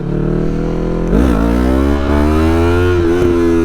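A Yamaha MT-03 stunt motorcycle engine idles loud and close, then revs up sharply with climbing pitch, dips, and winds up again in a few throttle blips.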